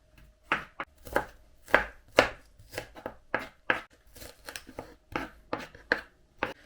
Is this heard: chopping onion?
yes